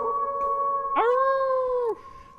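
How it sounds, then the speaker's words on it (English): A wolf howl used as a breaking-news sound effect, a single loud, clear sustained tone that rises at the start, holds steady, then drops off sharply after about a second. "So, at any time that we hear the wolf howl,"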